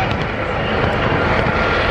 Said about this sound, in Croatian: Našu pažnju usmeravam na najveća helikoptera H-145.